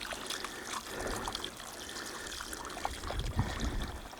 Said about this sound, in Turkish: yavaş yavaş can suyumu ilave ediyorum bu şekilde